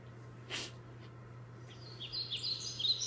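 Bird chirps and tweets, faint and high, scattered through the second half, with a brief snort-like breath near the start over a steady low hum.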